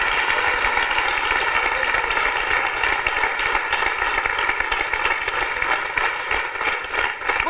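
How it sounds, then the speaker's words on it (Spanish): A television talk-show studio audience gives loud, dense applause, continuous and sustained from start to finish with no voices over it. "Y un fuerte aplauso."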